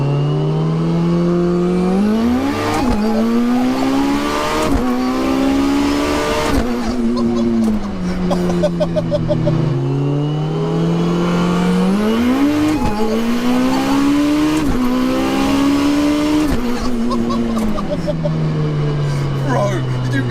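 A 1100hp TRC sequential-gearbox Evo race car pulls hard through repeated rising engine sweeps, each broken by a sharp shift crack, loud and close as people talk over the roar.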